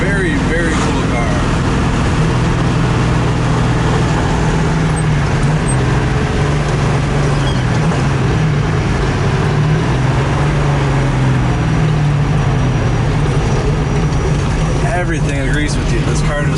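Cabin sound of a 1969 Chevrolet Camaro Z28 with a numbers-matching engine while cruising: a steady low engine rumble and road noise with a slowly rising and falling tone, and someone talking over it.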